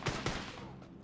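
Gunfire in the battle royale game PUBG, two sharp shots about a quarter second apart, fairly close, with a faint voice underneath.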